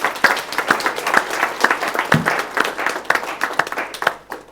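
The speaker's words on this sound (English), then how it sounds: "Give this man a round of applause." A conference audience claps steadily for several seconds, a dense patter of hands at moderate distance filling the room, easing slightly toward the end.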